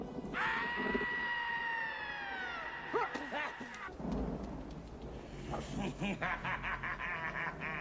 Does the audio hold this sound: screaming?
yes